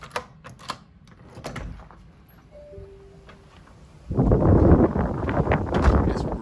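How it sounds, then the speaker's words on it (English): Wind gusts across a phone microphone on a windy height, first as faint rumbling buffeting and then as a sudden loud, sustained roar of turbulence. "It's really windy up here, as always"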